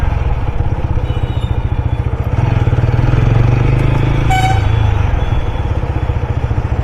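An NS 160 motorcycle riding in sports mode on a highway, its engine droning loud and steady throughout with a rapid pulsing beat, plus a brief faint horn-like tone midway.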